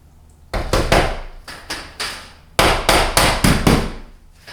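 A hammer strikes metal drywall outside corner bead as it is fastened to a wall, with sharp, loud, close blows in uneven groups of two to four over about four seconds, alone with no speech.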